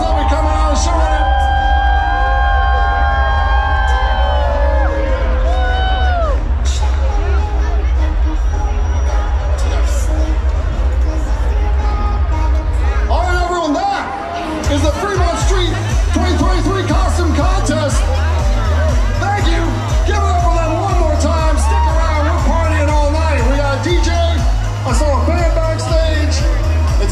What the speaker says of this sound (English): Give them all a huge round of applause.